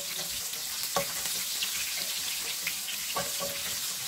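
Sliced onion hits a pan where native chicken is browning for pancit bihon guisado, and a continuous dense sizzle carries light stirring scrapes and a couple of soft clatters throughout.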